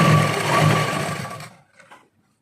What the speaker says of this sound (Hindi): अब यहाँ से हमें अपनी लास्टिक और कपड़े की किनारी पर, बेल्ट की किनारी पर एक स्टिच लगानी है